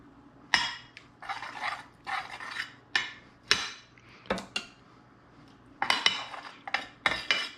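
Sauce is spooned into a lasagna pan in a series of scraping, knocking metal-on-pan strokes, some ten separate clattering bursts with short pauses between them, close and fairly loud, with no voices.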